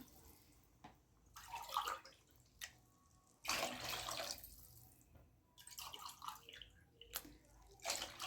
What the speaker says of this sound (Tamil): இதில் 4 கப்பு தண்ணி ஊற்றிக்கிறோம்.